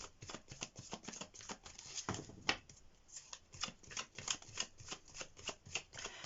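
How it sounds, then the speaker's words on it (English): Tarot cards are shuffled over and over, a quick, close run of riffling flicks and soft slaps with no one speaking. "while I'm shuffling the cards"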